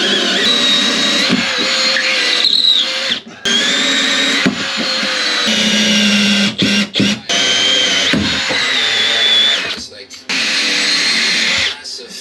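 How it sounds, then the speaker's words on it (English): A power drill bores holes through floor joists during a bathroom renovation. It gives loud, close bursts of whining motor noise that start and stop repeatedly, with short pauses between the runs. "So we've got the holes drilled through here now."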